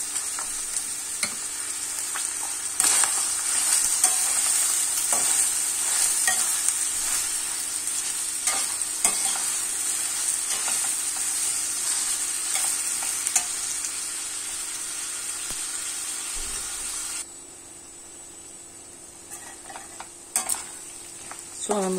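Rice and onion frying in oil in a pan for a meat pilaf, a steady close sizzle with occasional spoon scrapes and stirring taps, then a quieter stretch near the end.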